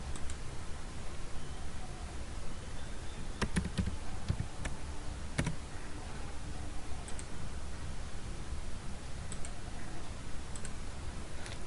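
Fingers tap out a name on a computer keyboard while filling in an online tax return registration form, sparse soft clicks in a few small bursts over a steady low background hiss, with no voices.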